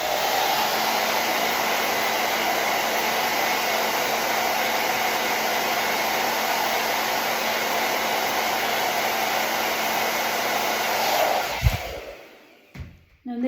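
A hair dryer blowing on a painted daisy, a steady close whooshing drone with a faint whine that holds for most of the stretch before being switched off near the end.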